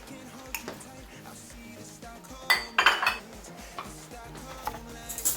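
Small glasses set down one after another on a small tray, giving light clinks and taps of glass and metal against a soft background, with a brief cluster of sharper clinks near the middle.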